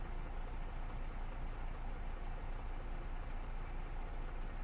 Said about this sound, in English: Listen to the trailer noises.